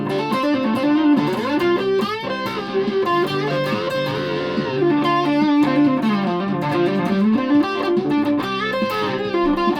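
Distorted electric guitar from an Epiphone Goth SG on its neck humbucker, playing loud sustained chords and riffs with a thick, saturated tone throughout.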